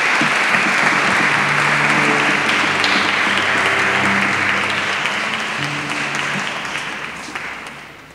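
A crowd at a choir's Epiphany concert claps to welcome a reader. The applause is loud and full at first, with some faint low tones beneath it, then gradually fades away toward the end.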